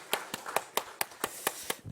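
Rhythmic clapping from a congregation during a Sunday morning church service, about eight crisp, evenly spaced claps in a steady beat at moderate loudness with a quiet room between them.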